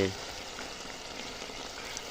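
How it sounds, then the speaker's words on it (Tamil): A steady, soft bubbling hiss of quail curry boiling in a pan, close and continuous with no pauses. "ஜலபுல கலபுலன்னு நல்லா கொதிக்குது"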